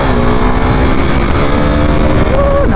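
A motorbike being ridden, its engine giving a steady, loud drone with continuous harmonic hum and no speech.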